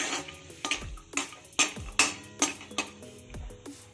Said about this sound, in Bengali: বাদাম এই সবগুলোকে আমার হালকা ভেজে নিতে হবে